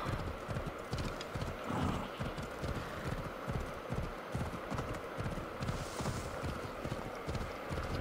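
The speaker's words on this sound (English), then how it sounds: "my horse is traveling fast" A horse gallops at speed in Assassin's Creed Odyssey, its hooves beating a steady, rapid rhythm throughout, moderately loud against a busy background.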